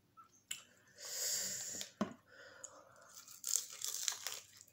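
Close-up crunching and tearing as someone bites into a crunchy hot chicken wing, a few loud crisp bites with chewing and breathing between them.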